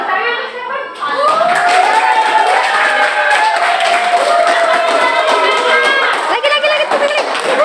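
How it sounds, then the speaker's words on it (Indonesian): A classroom of students claps hands together in a sustained burst of dense, lively applause, loud and close, with scattered voices and cheering mixed in throughout. "Oke, tepuk tangan."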